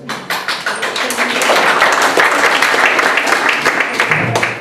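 Audience applause in a school theatre performance of Romeo and Juliet, many hands clapping steadily and briskly for several seconds, with sharp individual claps standing out near the front.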